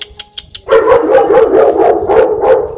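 A dog barks indoors at someone putting flyers in the outside letterbox, starting with a few sharp yips and then breaking into a loud, continuous run of close barking and howling.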